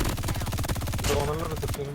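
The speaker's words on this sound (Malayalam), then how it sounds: "എനിക്ക് വെടിയൊക്കെ നിന്ന് കേൾക്കാൻ വയ്യ" Rapid gunfire from a battle royale video game rattles in dense bursts, loud and close, then cuts off near the end as a tone lingers.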